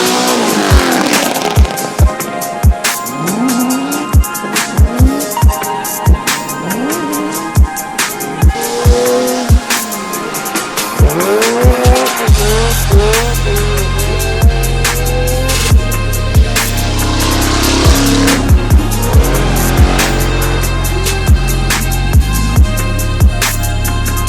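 Cars lap a NASCAR track during Fuel Fest, with engines revving and passing loudly in repeated sweeps and some tire squeal. A steady low drone comes in halfway through, and there is no talking.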